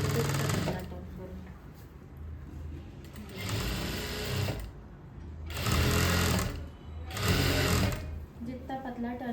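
Sewing machine stitching a single seam on a polka dot cut-out dress, running in three or four steady loud bursts with short pauses of handling between them.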